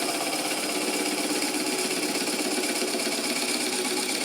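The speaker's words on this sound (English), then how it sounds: "slowly at 500, I was going too fast on the first one, slowly cut through the Forstner bit" Forstner bit held in a drill chuck bores slowly through wood on a lathe running at 500, giving a steady, continuous whirring grind with a broad, even hiss that stays constant throughout, no talk.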